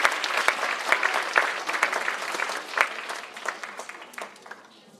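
Audience applause for student singers at a school concert, dense clapping with sharp individual claps standing out, loud at first and gradually tapering off, no talking over it.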